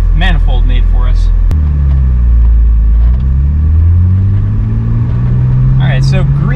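A forced-induction BMW E36 with a swapped M50 intake manifold drives and accelerates, its engine heard loud from inside the car with a steady rising drone. A voice talks briefly at the start and again near the end.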